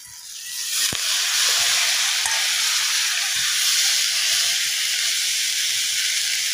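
Coriander leaves with dried puti fish, turmeric added, frying in a pan: a loud, steady sizzle and hiss that starts up after a quiet moment and holds evenly throughout, with faint stirring scrapes beneath.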